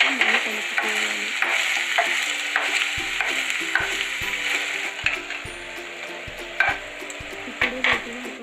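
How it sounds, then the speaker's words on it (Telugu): Methi paneer masala stirred in a frying pan after turmeric is added, a steady sizzle under repeated scraping strokes and clinks of the spoon against the pan, close and brisk. "తగినంత పసుపు ఇలా వేసుకున్నాక మళ్ళీ కలుపుకోవాలి"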